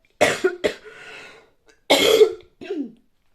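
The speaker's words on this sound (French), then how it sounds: "Je vais couper pour tousser." Several harsh coughs from a sick person in a short burst, then a pause and a couple more heavy, throaty coughs close to the microphone.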